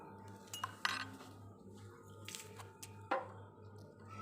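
A spoon stirs a spoonful of sugar into half a glass of water, producing a few faint, scattered metallic clinks against the glass over quiet room hiss.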